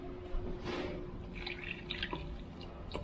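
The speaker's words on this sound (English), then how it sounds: "you're going to need to add some clean water to it" Clean water pours and drips into a saucepan holding beeswax for rendering, faint splashes and trickles scattered irregularly over a quiet background.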